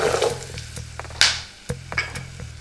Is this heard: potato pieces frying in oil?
yes